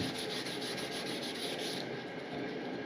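Steady, continuous rasp of 150 grit sandpaper rubbing across wood edges on an Amazon Basics #4 hand plane, a dense rhythmic scratching that carries on without pause, close and fairly loud.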